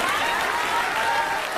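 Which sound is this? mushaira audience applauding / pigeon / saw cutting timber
mushaira audience applauding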